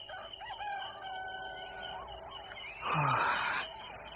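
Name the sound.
rooster crowing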